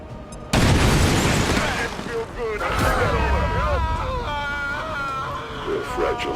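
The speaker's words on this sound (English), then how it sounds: "Uh-oh, a grenade?" A grenade goes off in XCOM, a sudden loud boom that rolls into a sustained rumbling blast, with a voice talking over the tail of the explosion.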